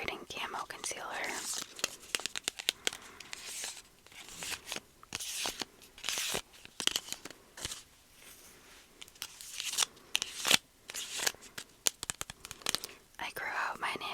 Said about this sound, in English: I grew out my nails, so it makes for some nice ASMR sounds.